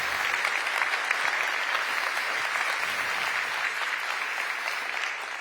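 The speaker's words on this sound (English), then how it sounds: "So please, a round of applause for them because they are quite the heroes now." Sustained applause from a conference audience, dense and steady, a full room clapping loudly for the whole stretch without any speech over it.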